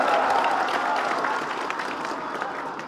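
Steady applause from an audience at a Commission II DPR meeting, a dense continuous patter of many hands holding at an even level for the whole stretch, with faint voices mixed into the crowd noise.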